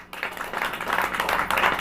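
A church congregation claps together during a Hindi-language service, a dense, continuous patter of many hands lasting the whole moment and rising slightly toward the end.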